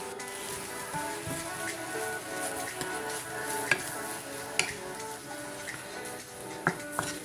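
Shredded beef sizzling in a hot pan while being stirred, a steady dense crackle with occasional sharp clicks of a utensil against the pan, close and continuous, no talking.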